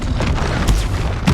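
A Confringo fire spell explodes in Hogwarts Legacy with a couple of loud, close booming bursts over a dense, continuous roar of game combat noise.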